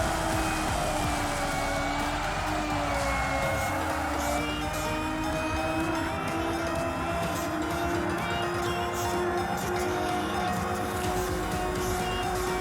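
A car drifts in the futuristic racing video game Xenon Racer, its engine droning continuously and loudly with whining tones shifting in pitch, amid steady game sound.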